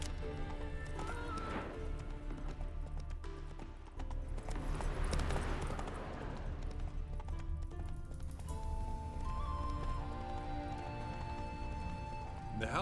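Roach, a horse in The Witcher 3, clip-clops with steady hoofbeats that run nearly throughout at close range, joined by a whinny and a dense layer of game music and ambience.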